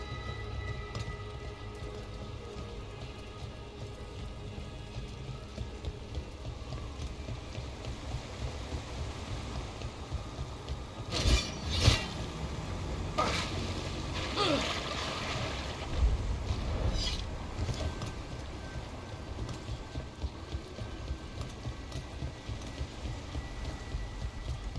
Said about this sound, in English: By the waterfall.